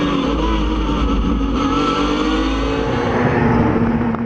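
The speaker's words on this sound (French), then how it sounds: "Superbe dépassement de la part du pilote de B Autosport qui est désormais à la poursuite de Carl Van de Vostin." Race cars accelerating hard during a race at the Ledenon circuit, a loud sustained engine drone with rising pitch sweeps as they pass close by.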